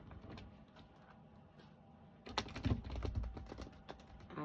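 A deck of tarot cards is shuffled by hand, with quiet riffling at first and then a louder, rapid run of flicks and soft taps close by.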